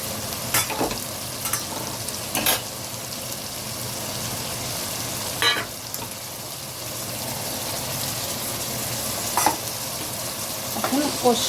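Tomatoes, onions and spices fry in a pan for a chicken curry, a steady low sizzle with occasional louder stirring scrapes and spatters, no talking over it.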